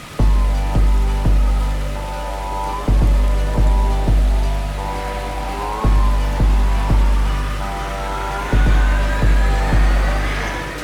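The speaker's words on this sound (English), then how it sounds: "it's literally pouring cats and dogs" Heavy rain pours steadily on Car Nicobar island with a dense, continuous hiss, broken by repeated low thumps and rumbles at irregular intervals.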